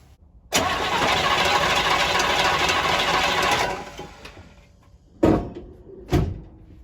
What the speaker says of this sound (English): So I'm going to get in the car, turn the engine over.